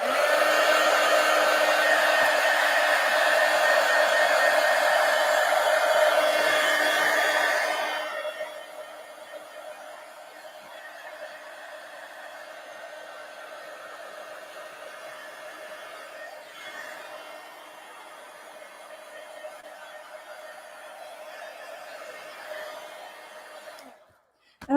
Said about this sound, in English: let's go ahead and hit this with the heat gun and dry the green